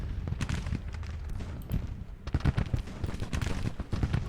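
Cannon blasts and musket volleys from Civil War battle lines in Grand Tactician: The Civil War, booming in irregular bursts at middle distance with a continuous rumble of gunfire between them.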